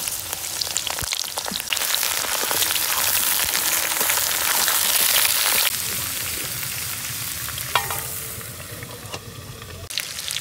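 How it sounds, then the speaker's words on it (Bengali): Pointed gourd (potol) frying in hot oil in a wok: a loud, continuous crackling sizzle holds steady throughout, with faint clinks from stirring near the end. "তেলটা গরম হয়ে গেছে, আমি এবারে পটলগুলো একে একে ছেড়ে দিচ্ছি।"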